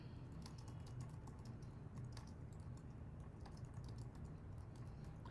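Typing on a computer keyboard, with steady quiet key clicks pattering throughout over a low background hum.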